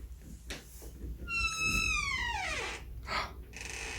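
A house cat kept indoors in a garage lets out a long, drawn-out meow that slides downward in pitch, close and clear, followed by a shorter faint chirp.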